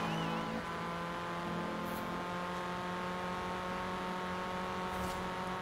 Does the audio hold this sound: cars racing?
yes